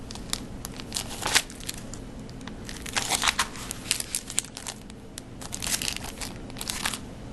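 Shiny foil craft papers crinkle and rustle as they are handled, in irregular close crackling bursts that come and go, with no talk.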